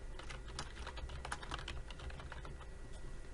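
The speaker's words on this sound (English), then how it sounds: "and you can type on it" Quiet, steady typing on a computer keyboard, with irregular light key clicks running continuously for a few seconds and no talk over it.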